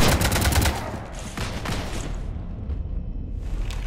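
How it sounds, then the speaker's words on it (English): A rapid close burst of automatic weapon fire from the Mass Effect 3 video game, loud at first, then easing into rumbling booms and scattered distant shots. "You want to stop shooting up my ship?"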